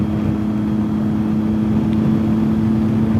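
A motorcycle engine hums steadily at cruising speed on a ride around a lake, a loud continuous low drone with constant wind rush and no change in pitch, with no talking.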